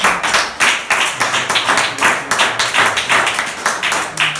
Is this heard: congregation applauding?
yes